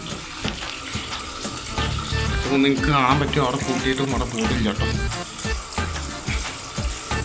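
Water leaks from a broken pipe in a steady rushing, splashing stream, continuous and fairly loud, while someone talks over it nearby.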